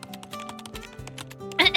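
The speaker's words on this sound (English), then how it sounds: "His slender fingers swiftly dance across the keyboard," Quick, irregular clicking of fingers typing on a computer keyboard at a desk, near and fairly crisp, with a soft musical backdrop underneath and a brighter burst of keystrokes at the end.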